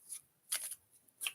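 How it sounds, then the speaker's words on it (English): Tarot deck being shuffled, with three short papery riffling bursts separated by quiet gaps, soft and close. "shuffling the deck."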